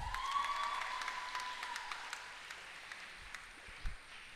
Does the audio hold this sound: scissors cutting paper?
no